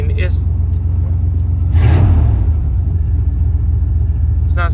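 A 1993 Chevrolet K1500 pickup engine idles steadily with a low, continuous rumble, briefly swelling louder around the middle before settling back to an even idle.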